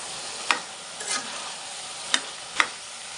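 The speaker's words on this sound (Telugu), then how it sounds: "కారం కొంచెం ఉప్పు మళ్ళీ మిక్స్ చేసుకుందాం" Chili powder and salt being stirred into a chicken chana dal curry in a pot, a soft sizzle under four distinct spoon scrapes and taps against the pan.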